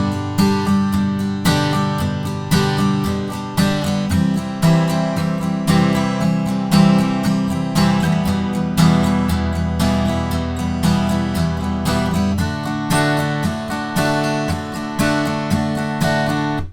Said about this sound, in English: So we can do that using our standard strumming pattern that we had earlier, which will sound like this.